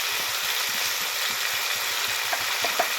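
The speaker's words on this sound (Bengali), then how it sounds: "এটা আমি ভালোভাবে একটু ভেজে নিই।" Chopped green chillies and chilli powder frying in a pan for a potato-egg omelette, a steady soft sizzle with a few light stirring clicks and scrapes near the end.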